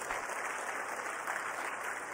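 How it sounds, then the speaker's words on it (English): Steady, dense clapping from a crowd, sustained without breaks, like an audience applauding in a large hall, after an ISRO EOS-08 satellite launch. "Let us give a big round of applause to the entire team."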